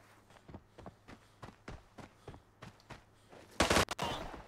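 Gunfire in the shooter game Arena Breakout rings out as a string of separate sharp shots, then a loud burst of rapid fire near the end, over quiet footsteps, with no talking.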